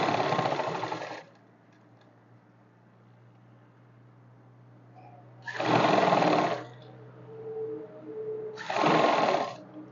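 A sewing machine runs in three separate bursts of steady whirring stitching while a folded kurti edge is sewn, with a low hum and faint handling noises in the pauses.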